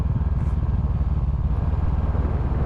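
A Kawasaki ER6N 600 motorcycle in derestricted form revs steadily close by, its twin-cylinder engine pulsing in a dense, even throb with no talk over it.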